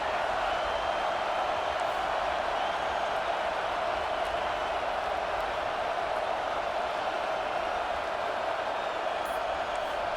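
A steady wash of stadium crowd noise fills a snowy Nebraska versus USC game in College Football 25, a constant roaring murmur that holds at an even level throughout.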